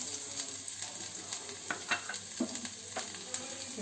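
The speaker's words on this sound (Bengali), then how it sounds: "একটু নেড়ে ভেজে নেব" Chopped garlic, chili and ginger frying in hot oil as they are stirred, making a steady close sizzle with scraping clicks of the spoon against the pan, for a recipe of prawn and pointed gourd chops.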